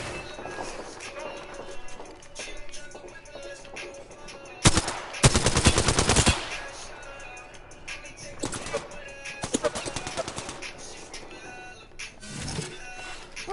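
Gunfire in Apex Legends rattles in a sharp rapid burst partway through, followed by scattered shorter volleys and single shots among game noise, with players talking throughout.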